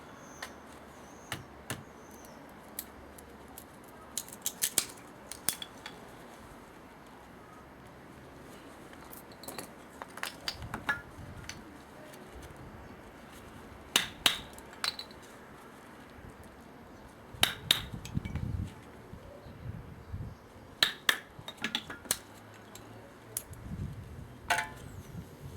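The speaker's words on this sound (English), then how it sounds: "let's feather a few of these up" A Mora Bushcraft Force stainless-steel knife shaves feather sticks from wood outdoors, giving sharp, scattered scraping strokes and crisp snaps in irregular bursts against quiet background.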